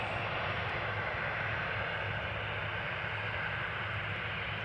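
Transavia Boeing 737 jet airliner at Amsterdam Schiphol, a steady, even engine roar with a low droning hum underneath, constant and moderately distant throughout.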